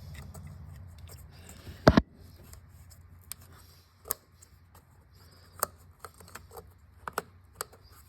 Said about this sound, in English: We're going to plug them back in now. Make sure you feel the click.